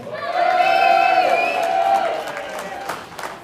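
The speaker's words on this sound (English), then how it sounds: "Let's hear a cheer for them!" A crowd at a Hussaria Cup armored combat match between the Pine Barons and New York Orcs cheers with a sustained, ringing whoop that swells and then fades over a few seconds.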